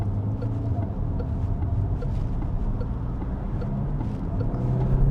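A Peugeot 408 GT PHEV in sport mode gathering speed, giving a steady, fairly quiet low engine and road hum from inside the cabin that swells slightly near the end.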